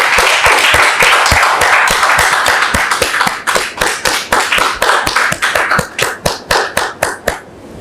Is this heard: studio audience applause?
yes